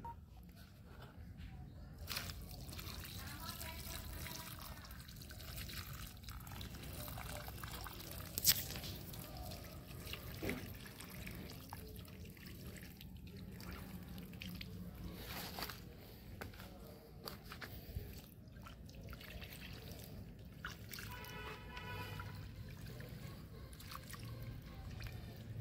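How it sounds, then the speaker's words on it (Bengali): Water is poured onto a potted tuberose plant in a rooftop garden and drains through the soil, giving faint, uneven trickling and scattered drips over a steady background hiss. "এবার আমি এটাকে জল দিয়ে নেব, সুন্দর ড্রেনেজ হবে।"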